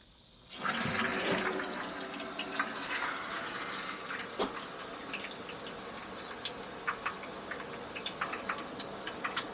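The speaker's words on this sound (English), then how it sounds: "I'm only going to use the top rain head right now because I don't want to get a lot of water everywhere" Water from a Delta outdoor shower rain head pouring down steadily, a broad close hiss that starts abruptly, with scattered drips and splashes pattering through it.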